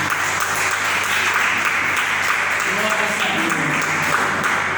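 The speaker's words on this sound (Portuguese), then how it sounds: "Pode dar uma salva de palmas para o Senhor." A church congregation applauds continuously in dense, loud, sustained clapping, with voices mixed into the wash of noise.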